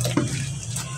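Cold tap water runs steadily over boiled noodles during rinsing in a home kitchen, a close, continuous splashing stream with a brief louder gush near the start.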